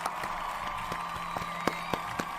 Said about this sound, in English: So a little clap. This movie deserves a clap.